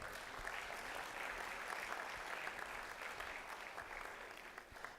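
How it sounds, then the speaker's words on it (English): An audience at a national cancer summit claps continuously, a steady mid-level wash of many hands that fades slightly near the end, with no one speaking over it. "Let us clap for them."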